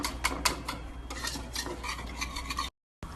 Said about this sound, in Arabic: مثل ما تشوفون نزلنا الملح والكاري والفلفل الأسود ونحرك